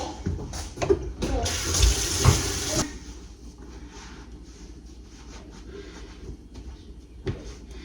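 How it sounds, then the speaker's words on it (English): Tap water runs into a sink while someone scrubs their arms up to the elbows, a close splashing hiss for the first few seconds that then drops to a faint, steady trickle. "time to scrub up to my elbows"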